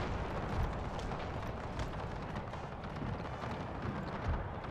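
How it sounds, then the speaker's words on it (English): Continuous booming, rumbling barrage of cannon fire from an artillery bombardment in Napoleon: Total War, with dense overlapping blasts and crackles filling the whole stretch at a steady, busy level. "My cannons constantly harassing and bombarding these guys."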